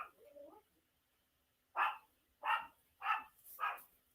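Dogs barking outdoors, four loud, evenly spaced barks close by after a brief whine, with a short pause before the barking starts.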